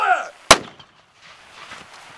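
A single sharp blank gunshot effect cracks on a war film set, preceded by a shouted command and followed by faint room noise and low murmuring.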